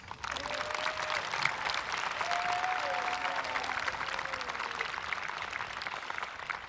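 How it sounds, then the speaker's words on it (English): A graduation crowd at Sterling High School, Illinois, applauds the seniors in one long, even round of clapping, with faint whistle-like tones drifting above the steady roar. "Please join me in recognizing each of these seniors, Cale, Andrew, Thomas, and Dylan, with one more round of applause"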